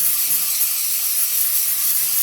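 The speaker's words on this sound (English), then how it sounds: "It's another kind of like a spray on, like aerosol spray." A continuous aerosol spray of edible food coloring hisses close by, bright and steady for a couple of seconds with no other sounds.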